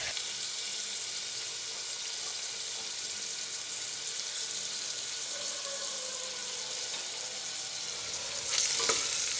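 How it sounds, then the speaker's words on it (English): Chopped ginger and garlic fry and are stirred in a pan over low flame, giving a constant close sizzle throughout, with a brief louder scrape of stirring near the end. "after adding the chopped ginger and garlic, just give it a good stir"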